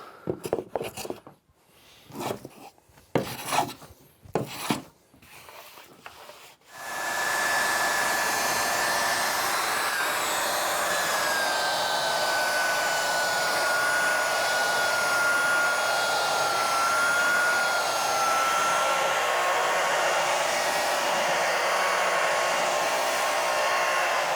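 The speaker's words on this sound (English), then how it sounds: "I'll come back in with the power sander and use an actual belt sander to surface the whole thing." A power belt sander surfaces reclaimed pallet wood boards for a table, starting after several seconds of intermittent handling noise and then droning loudly and steadily with a whining tone for the rest of the clip.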